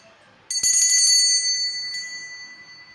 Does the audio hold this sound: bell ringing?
yes